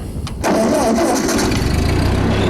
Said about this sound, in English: So we're going to start it up here